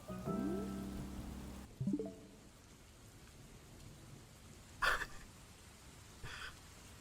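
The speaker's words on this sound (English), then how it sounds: "Like, here's some rain for you." Soft, steady rain in Animal Crossing: New Horizons patters in the background, with a few brief chiming tones and short bright bursts rising over it.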